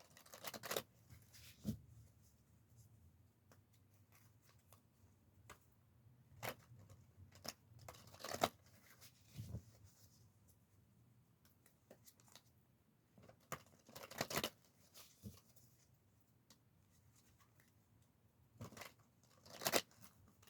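Tarot cards are shuffled close by in a quiet room, giving repeated soft riffles and sharp snaps in irregular bursts with pauses between them, and no talking.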